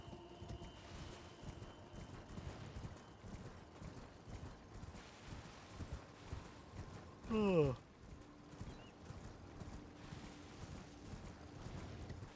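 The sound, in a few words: horse hooves riding in Elden Ring video game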